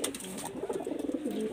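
Pet white jiria pigeons coo in a continuous low, throaty rolling murmur, near and moderately loud, with a quick run of pulses.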